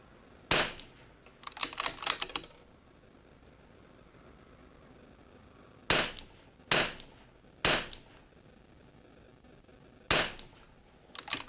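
Bergara B14R rifle shots fired at targets on a range: sharp, loud cracks spaced a few seconds apart, the first followed by a brief flurry of echoing reports, with quiet outdoor hiss between the shots.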